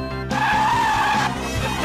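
A car on skinny eco-friendly tyres with very little grip skids loudly after a brief engine note, the tyre squeal holding for about a second before fading, with the engine droning beneath.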